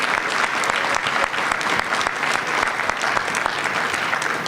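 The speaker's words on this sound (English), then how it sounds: "So now, a round of applause." Sustained applause from a campaign election-night crowd greets the candidate's parents, dense steady clapping holding at full loudness throughout with no speech over it.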